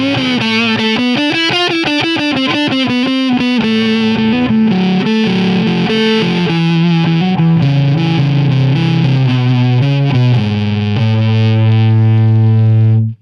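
An electric guitar plays a bluesy lead line through a tube amp with transistors jammed into its tube sockets. The tone is loud and distorted, with bent notes and quick phrases, ending on a long sustained note.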